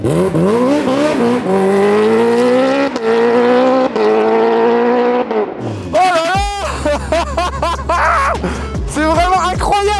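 A Kawasaki H2R motorcycle roars hard through the gears, first a long steady climbing engine whine, then rapid shifts with sharp rising pitches and crackles, loud and close.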